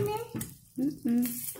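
An egg frying in a home kitchen pan gives a brief, close sizzle broken by short gaps, with a voice chiming in over it.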